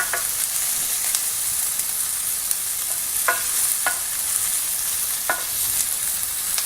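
Onions frying in a pan for vegan tacos, a steady close hiss of sizzling with occasional scraping stirs cutting through.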